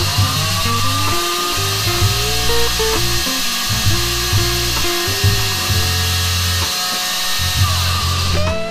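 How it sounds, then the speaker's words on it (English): A blender grinds black peppercorns into a coarse powder with a loud, steady motor whine and rattling grit. The pitch shifts slightly as the load changes, and the motor winds down at the end. "We're gonna use a blender. With that, we're gonna crush them, make like a coarse powder out of them"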